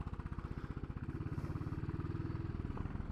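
A Royal Enfield Classic 500 motorcycle with an exposed metal exhaust idles nearby, its engine and exhaust giving off an even, loping thump that repeats rapidly and holds steady throughout.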